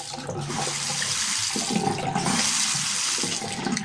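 Steady broadband rush of water flowing from an opened tap through a Valtec pressure reducer in home plumbing, continuous and fairly loud throughout with no whistle or hum, alone without talk.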